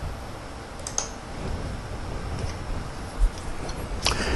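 Computer keys and a mouse button click a few times while entering figures into tax-form fields, sharp light taps scattered over a faint steady background hum.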